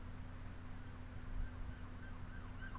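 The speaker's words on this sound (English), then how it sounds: "There's something wrong with that person's siren." An emergency vehicle siren wails faintly outside, steady and distant beneath a low background hum, with no talk.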